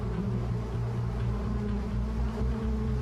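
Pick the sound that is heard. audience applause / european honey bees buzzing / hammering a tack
european honey bees buzzing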